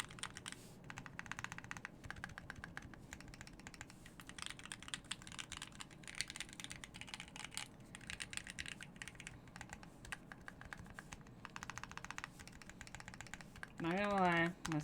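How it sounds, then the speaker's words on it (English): Keystrokes clatter rapidly on a rebuilt KBDPad mechanical keyboard with stabilizers, a close, continuous patter of clicks during a typing test, ending with a brief louder burst. "Here's the typing test."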